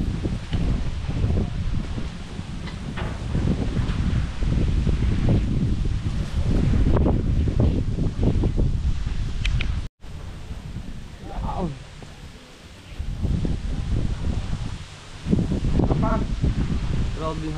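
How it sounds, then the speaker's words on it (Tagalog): Strong outdoor wind near the sea rushes and buffets the microphone in sustained loud gusts, briefly dropping out and returning, with people talking over it. "Grabe yung hangin to oh."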